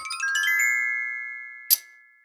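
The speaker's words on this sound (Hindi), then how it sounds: "तभी फोन की घंटी दोबारा बज उठती है।" Telephone ringing indoors: a bright, tinkling electronic ring with a few quick notes settling into a sustained tone, then a short sharp click near the end, loud and alone.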